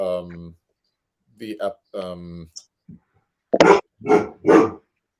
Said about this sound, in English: I think your dog has a question. That's a big dog.